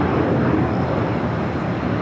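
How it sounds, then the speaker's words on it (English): A Boeing 767-300ER airliner, fifteen years old, taxiing on a taxiway at LAX toward a south-side takeoff, heard as a continuous loud broadband engine roar with steady rumble and no breaks. "Converted 767 to 300ER, 15 years of age. Currently on taxiway Alpha heading down for a south side takeoff on the 25s."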